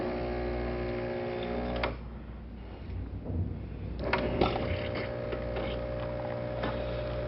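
A Gaggia Syncrony Logic espresso machine brewing espresso, with a steady low mechanical pump hum and faint ticking, a brief quieter dip in the middle, then the hum returns at moderate level.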